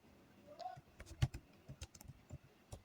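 Keys clack on a computer keyboard while text is entered into a Microsoft Word table, a quiet irregular run of close taps with one louder keystroke.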